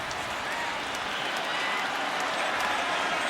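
Stadium crowd at a CFL game between the Saskatchewan Roughriders and BC Lions cheering after a Riders touchdown, a steady broad roar of cheers and applause throughout with faint commentary underneath.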